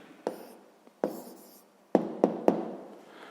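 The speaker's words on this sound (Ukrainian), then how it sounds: "Ну що ж, записуємо відповідь." Pen or chalk strokes write out the answer to a sixth-grade maths exercise, five sharp taps and scratches in uneven rhythm, close and fairly quiet, with no talk over them.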